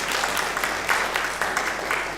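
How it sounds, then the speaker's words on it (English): A conference audience at an African curriculum association meeting in Nairobi claps together, a moderately loud burst of hand clapping with slight surges in rhythm, heard close and without talking over it. "And we give it a clap."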